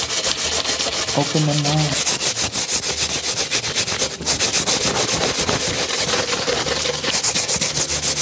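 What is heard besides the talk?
Scotch-Brite pad scrubbing an engine block clean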